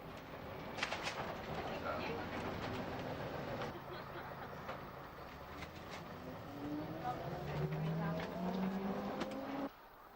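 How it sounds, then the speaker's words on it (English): A Routemaster double-decker bus, the traditional British type, rumbles past on a street, its engine note rising and falling with a low drone and some clattering, fairly distant and steady before cutting off near the end. "the Route Master is the last representative of the traditional British double-decker"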